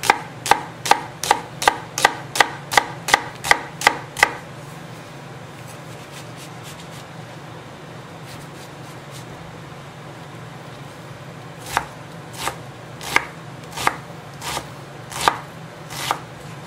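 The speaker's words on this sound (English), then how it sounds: "we will cut the onions. Need to be small" A knife chops onions finely on a cutting board in a fast, even run of crisp taps, a pause with faint background hum, then a slower, sparser series of chops, close and clear with no talking.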